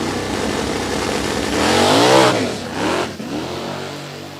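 A big FE Ford drag car on a 10.5-inch tire with stock suspension launches down the strip, its engine roaring in a loud, rising pass that peaks and shifts before fading, no voices over it.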